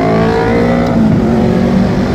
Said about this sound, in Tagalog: mga sasakyan dito sa Cebu